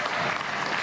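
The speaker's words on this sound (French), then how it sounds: "Applaudissements pour Dave, déjà, qui va chanter le rock and" Studio audience applause on a French TV variety show, dense steady clapping filling the whole brief moment, fairly loud and continuous with no voices on top.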